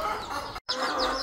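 Hens cluck in a backyard coop, a close, busy burst of clucking with a brief cut of silence in the middle.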